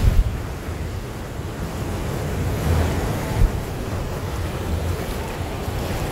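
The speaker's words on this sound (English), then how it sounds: "Feel them waves." Ocean waves roll in at Condado beach in San Juan, Puerto Rico, giving a loud, steady wash of surf mixed with wind buffeting the microphone and one brief swell of noise midway.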